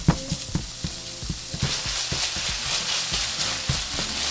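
Chorizo fries in a pan with a steady, loud sizzle, punctuated by rhythmic knocks and scrapes of a utensil stirring and breaking up the meat.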